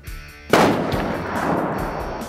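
A McMillan Tac-50 .50 BMG rifle fires a single loud, close shot outdoors during field testing, a sharp crack after a quiet lead-in, followed by a long rolling echo that fades slowly.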